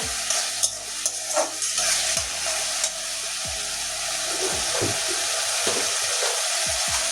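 Masala for kochur loti (taro stolon curry) frying down in a pan as its water cooks off: continuous loud sizzle with repeated scraping stirs throughout, no talk.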